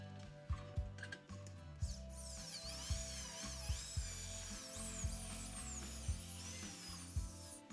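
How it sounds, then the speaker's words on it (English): A power drill bores holes along the edge of a part for a DIY project built from a telescopic fishing rod, with repeated short bursts of whirring and clicking and a high whine rising and falling between them, close and alone. "Now let's drill a few more holes along the edge."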